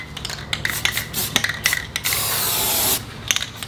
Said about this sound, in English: So I'm just doing a little rattle can, self-etching primer.